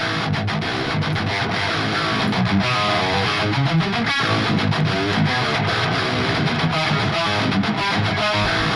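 A distorted electric guitar plays a chugging rhythm part with a heavy, scooped, EQ-shaped tone, loud and continuous, without any talking.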